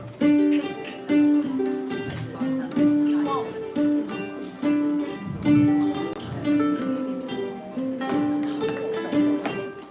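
Plucked ukulele notes played with hammer-ons form a bouncy, repeating bass line with short rhythmic attacks, played steadily at close range with no voices.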